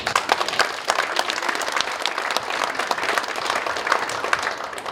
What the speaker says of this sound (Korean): 세 분 의원들에게 여러분들 박수 한번 좀